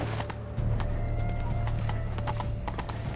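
Horse hooves clip-clop rapidly in a steady galloping rhythm in The Witcher 3, close and prominent, with a constant low hum of game ambience and faint tack and gear rattles.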